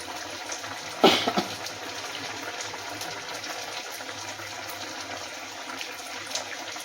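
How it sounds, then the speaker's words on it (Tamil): Dissolved tamarind water is poured into a pot of eggplant and green pea curry, opening with a brief splash followed by a soft, steady liquid rush. "புளியை கரைச்சி நம்ம ஊற்றிக்கணும்"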